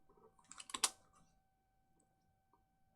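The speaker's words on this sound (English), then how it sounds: "So let's just type fantasy." A short burst of computer keyboard typing, several quick close keystrokes clustered near the start, then near silence with a faint tone running underneath.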